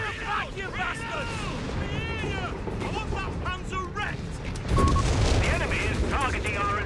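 Heavy tank cannon fire booms through a chaotic Company of Heroes 3 battle on a forest map, with dense gunfire and explosions layered under in-game soldier voices and a louder blast near the end.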